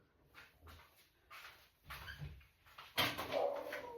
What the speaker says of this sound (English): Did you hear that bark? He's barking at the dog next door.